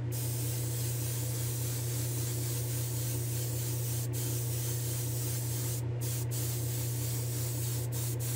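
A spray gun lays paint onto an AMX Javelin car body under reducer-thinned paint, giving a steady, close, continuous hiss with a low constant hum beneath and a few brief breaks.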